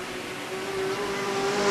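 Sportsman race cars circling the oval at Hales Corners Speedway in a heat race, a steady droning engine roar with a sustained tone, moderately distant and continuous, no talk over it.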